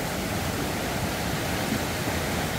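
Steady broadband rush of Jungwon waterfall spilling from a large rock in a mountain valley stream, a continuous close, loud roar of falling water with no talk over it.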